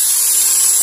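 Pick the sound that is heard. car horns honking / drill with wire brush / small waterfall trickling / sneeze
drill with wire brush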